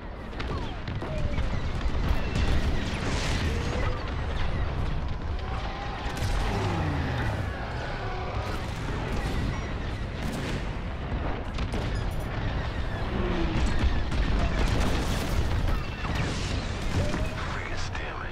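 Starfighter attack run in Star Wars: Squadrons, with a dense barrage of blaster fire and booming impacts over a steady roar of engines, loud and sustained, and a voice talking over the action.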